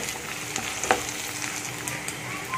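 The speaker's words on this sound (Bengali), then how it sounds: "এটাকে আমি ভালো করে ভেজে নেবো পেঁয়াজের উপরে দিয়ে।" Ginger garlic paste fries on top of onions in a pan, a close, crackling sizzle with a brief stirring scrape partway through, heard alone.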